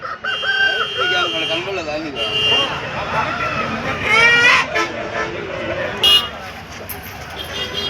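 Roosters crow at a busy weekly hen market in Pileru, several long calls rising over crowd chatter and a passing horn, with people talking nearby throughout.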